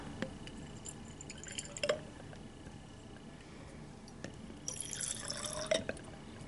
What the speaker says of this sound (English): I'm going to put some distilled water in each one as well.